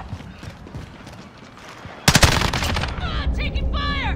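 Automatic gunfire in a Call of Duty Modern Warfare Domination match on Suldal Harbor, rapid close bursts erupting loudly after a quieter stretch of game ambience.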